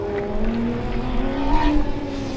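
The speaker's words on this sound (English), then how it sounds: "So we've got car number 96 making their way through the slalom" A Formula Student race car threads through an autocross slalom at a 2012 competition, its engine droning steadily with rising and falling pitch bands as it accelerates between cones, heard fairly close and continuous.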